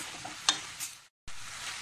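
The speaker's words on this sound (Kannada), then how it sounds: "ಇವಾಗ ಚೆನ್ನಾಗಿ ಮಿಕ್ಸ್ ಮಾಡ್ಕೊಳ್ಳೋಣ." Greens stir-fry (soppina palya) being stirred in a pan with a spatula, soft scraping and light sizzle close up, a sharp clink of utensil against the pan, brief pause, then stirring resumes.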